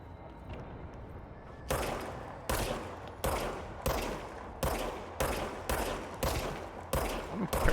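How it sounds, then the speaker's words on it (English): Service weapon gunfire in the video game Control, about nine loud, sharp shots fired singly at a fairly regular pace of under a second apart, each with a short crackling tail, over a low ambient hum. "Now I have a gun. Fire the service weapon."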